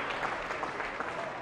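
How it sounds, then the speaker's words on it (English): Steady applause from the crowd at a women's A-League football match between Perth Glory and Newcastle Jets, a continuous, fairly distant patter filling the whole moment. "The little applause"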